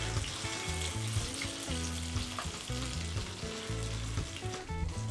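Pumpkin fritters fry in hot oil, giving a steady close sizzle that runs the whole time with faint stirring scrapes and background hum, no talking.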